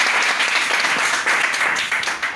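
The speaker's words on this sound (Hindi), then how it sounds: "एक बार जोरदार तालियां उनके लिए बता दीजिए" Audience applause at a Hindi poetry recital for Independence Day celebrations, a steady, fairly loud burst of many hands clapping that continues for a couple of seconds with no speech on top.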